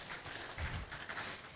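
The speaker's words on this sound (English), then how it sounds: "Another round of applause for him" A round of applause from the audience at a public lecture marking a 25th anniversary, heard as a faint, steady patter of many hands that swells slightly midway and carries on evenly throughout.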